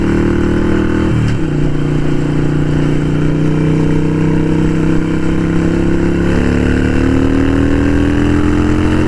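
Harley-Davidson Sportster 883 Iron fitted with Vance and Hines Short Shots exhaust, a loud, steady, close-up V-twin idle with a deep rumble and a brief blip of throttle early on, running alone without talk.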